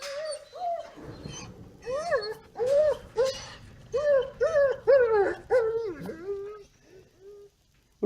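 Two dogs in a run whimper, yip and give high whiny cries at a newcomer, a fairly close series of bursts.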